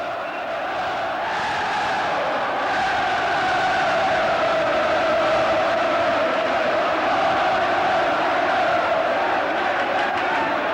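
At Anfield during Liverpool against Spurs, travelling Spurs fans sing and cheer within a roughly 40,000-strong crowd, a continuous swelling roar that holds steady throughout.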